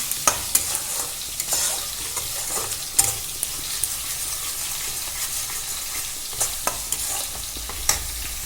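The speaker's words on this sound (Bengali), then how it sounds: "এবার আমি এই মশলাগুলো খুব ভালো করে কষিয়ে নেব যতক্ষণ না জলটা ছেড়ে আসছে তেলটা" Spice paste of turmeric and Kashmiri chili powder frying in oil for mutton kasha, a soft steady sizzle broken by sharp clicks and scrapes of stirring.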